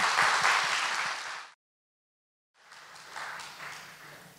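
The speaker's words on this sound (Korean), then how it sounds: "우리 열렬한 뜨거운 박수로 우리 목사님, 선교사님 이사 목사님 우리 모시겠습니다." A church congregation gives warm applause to welcome a visiting missionary pastor, a dense burst of clapping that fades out, then after a second of silence a second, softer round of applause resumes.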